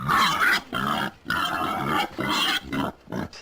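Loud, harsh grunting and squealing from wild hogs in several rough bursts with short pauses between, close and intense.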